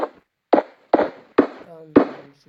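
Four or five sharp booming blasts go off at irregular intervals of about half a second, like TNT exploding in Minecraft Pocket Edition, each a short thud that fades quickly, with silence between.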